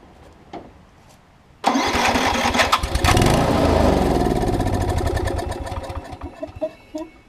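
A Snapper RER riding mower with bad gas cranks and fires up loudly after a quiet start, runs unevenly for a few seconds, then sputters and fades as it struggles to stay running.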